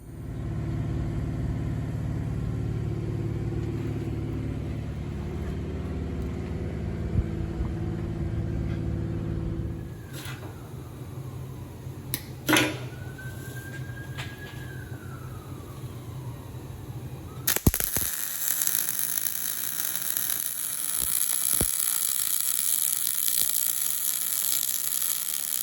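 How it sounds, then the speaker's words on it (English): Metal grinding on a bumper strut for a Chevy truck bumper build, a steady abrasive whir with rising and falling pitch sweeps in the middle, ending in a harsh, bright, louder grind near the close. "A little bit of grinding"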